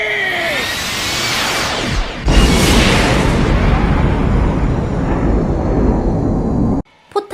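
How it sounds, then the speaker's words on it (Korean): A huge cannon fired with a heavy, roaring blast that swells and rumbles for several seconds, loud and close, before cutting off abruptly into near silence. "그리고 멋들어지게 대포를 쏩니다"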